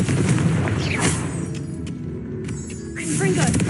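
A Confringo fire spell bursts in Hogwarts Legacy, a loud booming blast layered over busy game effects and background music, with a second surge of rumbling impact near the end.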